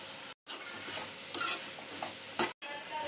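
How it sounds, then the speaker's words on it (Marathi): Cabbage and capsicum curry stirred in a pan, a steady scraping, rustling sizzle with a few louder scrapes, broken twice by brief silent gaps. "चला आता मस्तपैकी मिक्स करून घेऊया"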